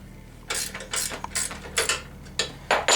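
A hand ratchet loosening the chain adjuster bolts on an ATV, several rapid bursts of sharp clicking in quick succession, close and clear with no voices.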